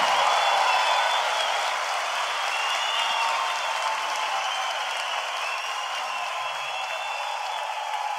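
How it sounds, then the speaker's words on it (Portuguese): Concert audience applause at a live show, a steady wash of clapping and crowd noise that holds evenly throughout without a clear peak. "Uma salva de palmas"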